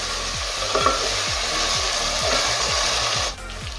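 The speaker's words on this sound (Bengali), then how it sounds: "গ্যাসের ফ্লেম হাই রেখে সাত থেকে আট মিনিট চিকেনটা নেড়ে ছেড়ে ভেজে নেব" Chicken frying in a pan over a high flame, stirred with repeated scraping strokes of a spatula over a constant sizzle, the hiss dropping away near the end.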